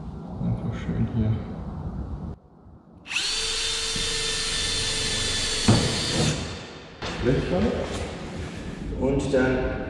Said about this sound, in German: Ich bohre mit einem 3 mm Bohrer vor.